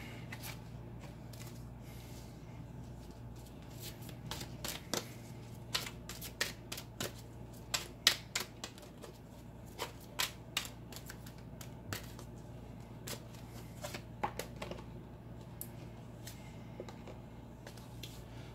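Tarot cards are handled and laid down one after another on a table, making soft slaps, shuffles and light taps that come irregularly over a quiet, steady room hum.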